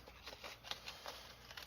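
Scissors cut a small piece of 2000 grit wet dry sandpaper in a few quiet, crisp snips, close by and faint, with short gaps between the strokes.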